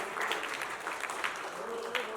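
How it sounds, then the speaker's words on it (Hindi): An audience applauds the cast and crew at a film poster and face-reveal event, with steady, moderately loud clapping over about two seconds and a talking voice in the background. "मैं चाहूँगा जोरदार तालियां हो जाए"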